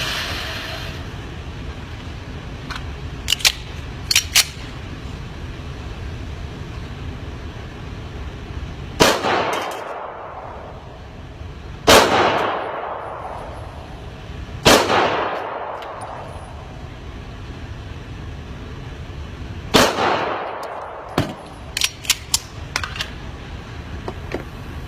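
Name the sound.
pistol gunshots at shooting range target practice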